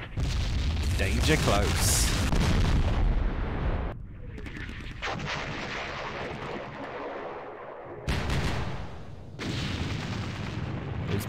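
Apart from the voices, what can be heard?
artillery fire in the video game Campaign Series Vietnam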